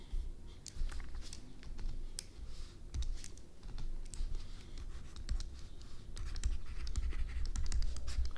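Pen scratching across exam paper, with continuous close scribbling strokes and small taps through the whole stretch as an answer about the atom is written out.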